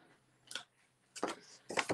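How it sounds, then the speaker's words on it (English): Scissors snip through paper or cardstock during a paper craft project, giving a few quiet, separate crisp cuts in short bursts with pauses between them. "And then I'm just going to take my scissors"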